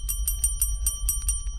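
Many bells ring throughout an old house, a rapid, evenly spaced string of bright metallic rings repeating about five times a second, clear and alone.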